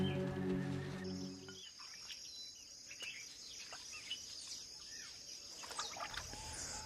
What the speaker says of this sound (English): A female jacana, or lily trotter.